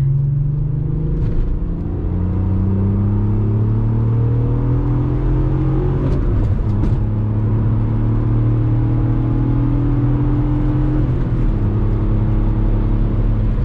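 A right-hand-drive Volkswagen MK4 R32 pulls hard from inside the cabin, its engine droning and climbing in pitch, dipping briefly at each gear change as it rolls into third, loud and continuous.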